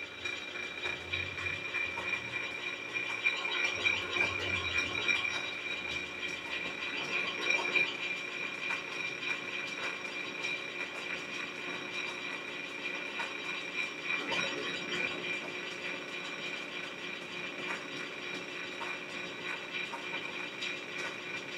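A cutting kit slicing through two inches of stainless steel gives a steady, harsh, grinding hiss with a thin high whine. It carries on continuously and loudly throughout, with small surges and no talking.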